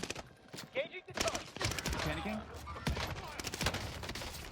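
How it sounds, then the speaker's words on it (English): Rapid bursts of combat shotgun fire in a Warzone Pacific match on Caldera, several sharp reports mixed with other gunshots and game effects, fairly quiet and busy. "Trying to get some damage done with the combat shotgun"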